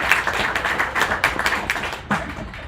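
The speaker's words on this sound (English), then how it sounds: "Please give him a round of applause." Audience at a planetary science talk applauds a guest lecturer, a brief smattering of claps with a cluster of sharp slaps, fairly close and thinning toward the end.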